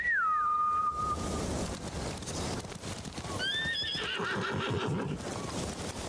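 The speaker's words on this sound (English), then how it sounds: "Bastards scared off the horses." Horses whinny sharply in a video game set in feudal Japan, one loud neigh up front and a second higher call midway, over a busy bed of hooves clopping and shuffling nearby.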